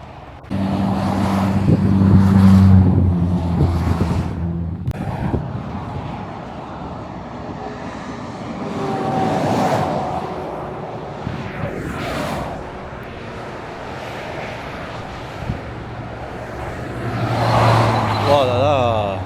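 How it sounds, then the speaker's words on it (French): A TVR Cerbera drives past after the Le Mans Classic, its loud engine note building, easing and swelling again amid other road traffic, with people talking nearby. "Allez, Porsche, enfin TVR Porsche. Voilà. La TVR Cerbera."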